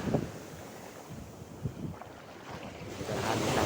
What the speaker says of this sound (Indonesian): Ini anginnya udah mulai kenceng ini guys